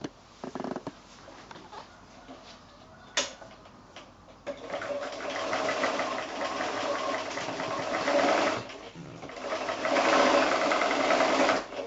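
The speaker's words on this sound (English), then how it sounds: "then we're just going to sew across those corners" A sewing machine stitches across the corners of a fabric pocket bag made from quilting fat quarters, its motor whirring in steady bursts with brief pauses and ticking between runs, alone and close.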